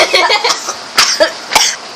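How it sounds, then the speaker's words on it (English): A girl coughs in several quick, close bursts over about two seconds, with faint room noise between them. "She's coughing."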